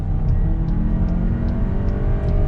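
A Volkswagen Tiguan AllSpace engine accelerating hard, a steady, loud, close motor drone with a smooth mechanical whir and no talk over it.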